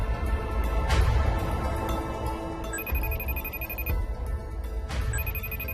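A telephone rings in repeated electronic bursts over a steady background hum, with a short pause between the two ring cycles.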